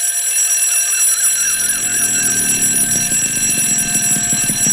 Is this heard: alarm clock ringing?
yes